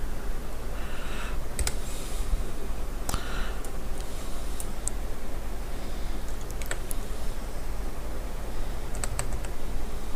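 Typing on a computer keyboard while entering a password, heard as sparse, light clicks and taps over a steady low background hum, with no voices.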